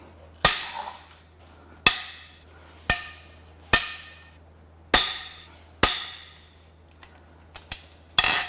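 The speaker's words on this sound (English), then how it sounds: "Let's go ahead and crack the head bolts loose" Loud, sharp metallic cracks as head nuts on a Mitsubishi 4B11T engine are broken loose with a wrench, six strong bangs at roughly one-second intervals followed by a few lighter clicks and a final knock, with no talking.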